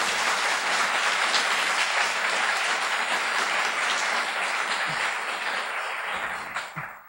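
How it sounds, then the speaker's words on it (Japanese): Warm audience applause for the speakers at a conference closing session, with even, dense clapping that holds for several seconds before tapering off at the end. "温かい拍手をお願いいたします。"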